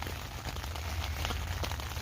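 Heavy rain falling on and around a tent, a dense steady patter of drops, close and continuous with no voices.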